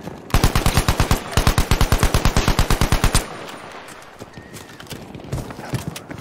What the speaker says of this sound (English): I'm shooting a guy, and the boxes are in the way, so then he shoots me